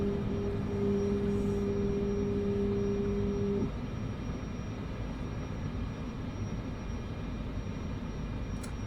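Aircraft engine throttled back to low idle in Microsoft Flight Simulator 2024, a steady droning hum with a brief tonal whine that cuts off, then a lower even rumble, no talk.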